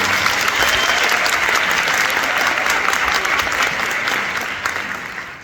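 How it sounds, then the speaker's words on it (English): Applause fills a high school scholarship awards hall, a sustained round of clapping from the audience that holds steady and then tapers off toward the end. "So give Larry another round of applause for it."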